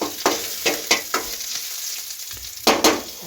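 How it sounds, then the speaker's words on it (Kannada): Saaru ingredients frying in a little oil on low flame, sizzling steadily while a spoon stirs and scrapes the pan in several sharp bursts, close and fairly loud, with no talking. "ಜಾಸ್ತಿ ಎಣ್ಣೆ ಹಾಕ್ಲಂಗೆ ಒಂದು ಸ್ವಲ್ಪ ಫ್ರೈ ಮಾಡಿಕೊಂಡು"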